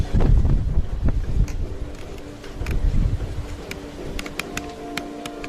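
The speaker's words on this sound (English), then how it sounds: "Bro, it is all kinds of windy." Strong wind buffeting the microphone outdoors, loud bursts of low roaring gusts that swell and fade, with faint clicks and a steady hum behind.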